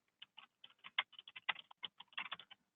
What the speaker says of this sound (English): I'm going to type in a subject.